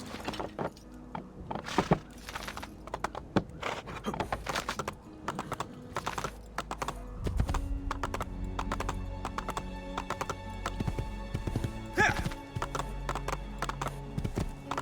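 Horse hooves clip-clop steadily in Assassin's Creed 2 as a mount is ridden, the rhythmic hoofbeats close and clear, with occasional snorts and background game ambience.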